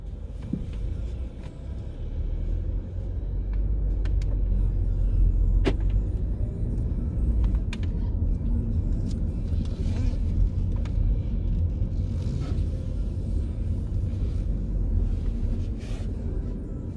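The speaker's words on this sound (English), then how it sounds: "we'll take it for a quick test drive" A 2013 Audi A3 1.4 TFSI automatic on a test drive gives a steady low interior rumble of engine and road noise throughout, with faint clicks and a person speaking over it.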